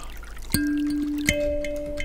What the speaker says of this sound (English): there's just this little water sound